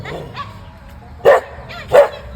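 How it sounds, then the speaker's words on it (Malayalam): A house dog at a gate gives two sharp barks about half a second apart, fairly close and loud, over quiet low background noise. "മേഡത്തിൻ്റെ വീട്ടിലെ പട്ടിയാണ്"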